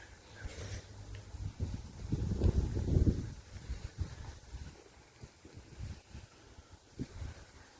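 Gusty wind buffets the microphone in rumbling bursts during an early-morning city bike ride, strongest in one heavy gust early on, then fading to lighter, uneven puffs.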